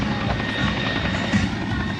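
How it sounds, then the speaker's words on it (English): A Yak-55 aerobatic plane flies over the Lethbridge International Airshow with a steady, loud, droning engine roar that holds throughout the two seconds with a slight swell near the end. "Dan Reeves in the Yak-55."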